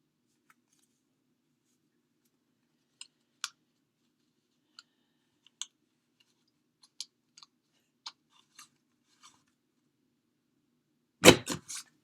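Scissors snipping card stock paper for greeting cards, a few sparse, quiet clicks and cuts spaced apart, ending in a louder crunchy burst.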